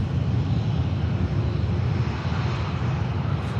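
A jet airliner touches down on the runway at Manchester Airport, its engine roar a steady, loud, broad rumble that continues without a break.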